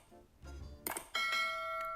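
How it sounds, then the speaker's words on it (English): A bright doorbell-style ding chime rings out clearly after a soft rustle, the subscribe-bell sound effect with sustained ringing tones that fade slowly. "I've heard that on a subscribe bell ding."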